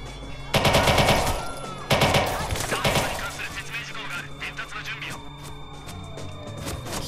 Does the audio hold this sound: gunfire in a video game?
yes